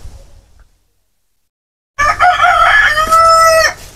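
A rooster crows loudly and close by among chickens roaming a banana garden, one long drawn-out call after a near-silent pause, with faint farm murmur before it.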